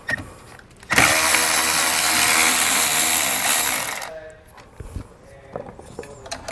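A power tool with a 10 mm socket loosens the nut on the positive battery terminal of a 2020 Hyundai: a loud, steady whirring burst of about three seconds, then scattered clanks and handling noises.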